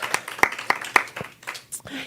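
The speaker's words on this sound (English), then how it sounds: "Let's give him a round of applause as well" A brief patter of audience applause for a practitioner at a spiritual gathering, individual claps rising and falling irregularly over a couple of seconds with a voice near the end.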